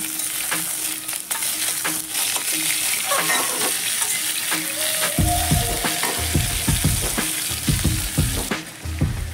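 Vegetables fry and get stirred in a pan with green chillies, salt and turmeric, a steady close sizzle broken by scraping spatula strokes and clattering stirs through the second half.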